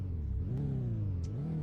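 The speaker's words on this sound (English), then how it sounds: "Give it a little rev." Tuned Honda Civic engine revving up close, the pitch rising and falling through a couple of quick throttle blips over a steady low rumble, with no voices over it.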